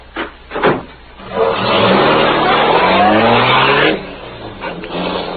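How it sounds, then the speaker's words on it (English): A powerful black car in a 1939 radio drama roars away through city streets, engine revving up loud and steady for a couple of seconds, with shorter bursts of motor noise before and after. "the powerful black car roared through the city streets"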